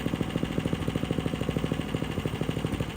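A vintage Honda HRS-21 lawnmower engine idles nearby with a fast, even, pulsing putter, steady and moderately loud with no talk over it.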